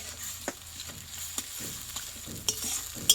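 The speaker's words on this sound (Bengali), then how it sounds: "মশলাটা কিন্তু ভালোভাবে কষিয়ে নিতে হবে" Masala paste for a Bengali mutton curry, made with marinated garlic, is stirred and fried in a pan. A soft, steady sizzle runs throughout, broken by sharp scraping and tapping strokes of the spoon at irregular intervals. No one speaks.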